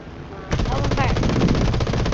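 Aircraft machine guns fire in War Thunder, a dense rapid burst that starts abruptly and hammers on without pause, loud and close.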